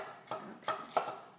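A Zwilling knife chops food on a cutting board with three distinct, evenly spaced knocks at moderate loudness, heard close up with no talking.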